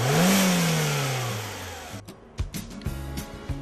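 A Dacia Logan MCV's 1.6-liter Renault gasoline engine revs up loudly, then slowly winds down, followed by quieter, intermittent mechanical knocks and clicks.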